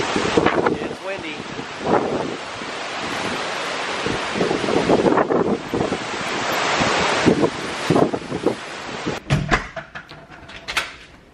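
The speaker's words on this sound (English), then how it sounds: "It's windy." Strong Hurricane Irma wind roars and gusts across the microphone in heavy buffeting waves, loud and close, with a few brief thumps near the end.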